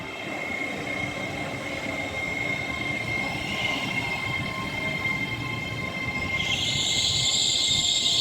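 Class 805 unit 805 008 passes through Rugby station on the West Coast Main Line as a steady, loud rumble of wheels on rail, with a high wheel squeal rising near the end.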